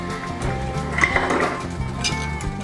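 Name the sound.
fork scraping browned chicken bits in a pan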